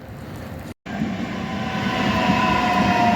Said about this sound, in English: They're quite smart, these trains.